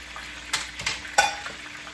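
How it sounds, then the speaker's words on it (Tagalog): Hot cooking oil spits and crackles in a pan during frying, with a few sharp pops standing out over a faint steady sizzle and light clatter of utensils, nearby and fairly quiet, no talking. "Oh, tumasik yung mantika."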